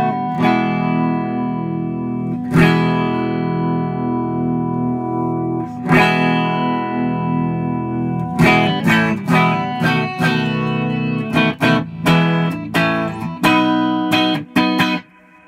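LTD Viper 400 electric guitar on its neck pickup with volume and tone turned up, bright notes and chords ringing with reverb, long sustained tones at first, then quicker strums and stabs.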